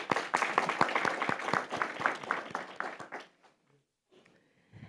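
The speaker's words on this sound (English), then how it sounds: "So we're going to ask everyone to give you all a round of applause." A room at a Montgomery Public Schools board meeting applauds its board members: dense, steady clapping from many people lasts about three seconds, then fades out into near quiet.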